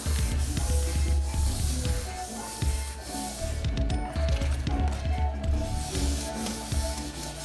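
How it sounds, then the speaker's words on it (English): Wet sanding a sealed wooden table top, a continuous wet rubbing and scrubbing with rhythmic back-and-forth strokes, close and fairly loud. "we're gonna finish wet sanding this table"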